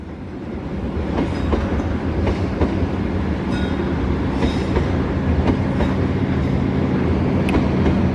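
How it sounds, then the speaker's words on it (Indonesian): The Argo Wilis passenger train rumbles past loudly and continuously near Bandrek station, wheels clattering over the rails in a steady rhythmic clack, close by. "Setelah kereta api Argo Wilis berangkat stasiun Bandrek"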